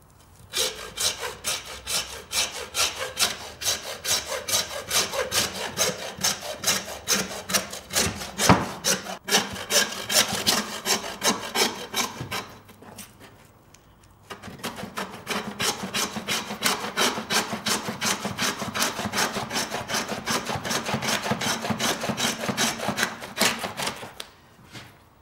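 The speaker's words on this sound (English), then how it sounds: "Follow that line with a sawing." Rapid, rhythmic hand-saw strokes rasp back and forth through beef ribs, pause briefly, then resume at the same steady pace until the cut finishes, separating the forerib and chuck from the brisket.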